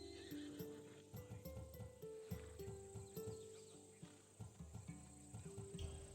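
A Macedonian warhorse in the video game Assassin's Creed Odyssey lets out a long, wavering neigh, with hoof clip-clops and a chirping insect ambience behind it, fairly quiet overall.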